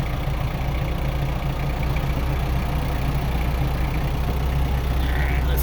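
A tractor engine idles at a low, steady, rumbling note before it creeps down a hill in first gear with the bucket down, close and continuous throughout.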